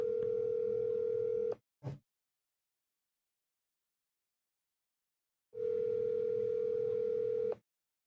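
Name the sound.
telephone dial tone while calling a cell phone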